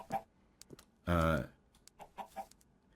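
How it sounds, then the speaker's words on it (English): Chickens spawning from a mob spawner in the game Minecraft give short clucks scattered through the clip, with one longer, louder squawk near the middle. "chickens, there they go, should start spawning"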